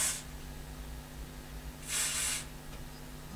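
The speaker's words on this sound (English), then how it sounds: "I will spray all these with contact cleaner" Contact cleaner is sprayed into a Mackie mixer during a repair in two short, sharp aerosol hisses. One comes at the start and a second follows after a quiet pause.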